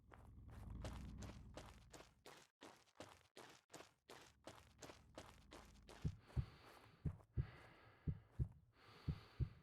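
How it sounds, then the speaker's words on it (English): Heartbeat in the game Occupy Mars, a rhythmic thumping that starts under heavy footsteps and breathing, then stands out as distinct regular double beats, close and steady. "do I have a heartbeat?"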